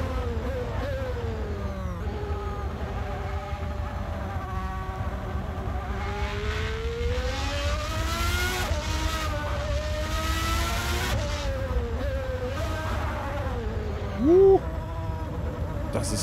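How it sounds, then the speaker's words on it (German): A high-revving Formula 1 car engine in the racing game Assetto Corsa, on the Nordschleife, whines continuously, its pitch climbing and dropping with each gear change, with a brief voice near the end. "Das ist krass mit einem Formel 1 Auto."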